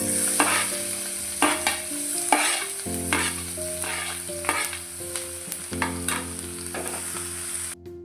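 Garlic sizzling in hot oil in a pan for a puffed-rice snack, a steady bright crackle broken by repeated scraping stirs, close and loud with no voices.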